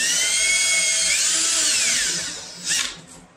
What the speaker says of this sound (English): I'm drilling the speakers.